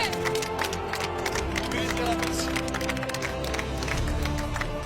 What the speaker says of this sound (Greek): Ένα τεράστιο χειροκρότημα για το Φάνη Πολέτση.